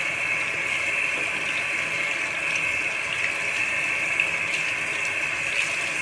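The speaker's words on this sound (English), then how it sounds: "Leave the water on." A bathroom tap runs steadily during hand washing, a constant hissing stream of water at moderate level with no voices and no break in the flow.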